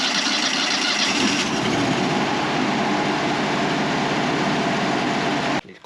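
A 25hp Kohler engine on an LT35 Wood-Mizer sawmill runs steadily at a loud, even drone for several seconds, then cuts off abruptly near the end.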